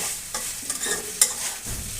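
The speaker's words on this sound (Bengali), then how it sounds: "তারপরেও আবার একটু মশলার সঙ্গে নেড়ে চেড়ে জড়িয়ে করিয়ে ভেজে নেব" Cauliflower stir-fried with spices in a pan, a steady faint sizzle broken by a few scraping stirs and one sharp clink, with no talking.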